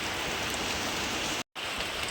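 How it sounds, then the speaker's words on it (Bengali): Heavy rain pours down steadily as a dense, continuous hiss, broken by a brief moment of silence partway through. "দেখো শুরু হয়ে গেল বৃষ্টি মুসলধারে বৃষ্টি"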